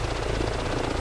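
Helicopter engine and rotor in Microsoft Flight Simulator 2024, a steady loud whine and rotor throb held throughout as the aircraft descends to land on a helipad.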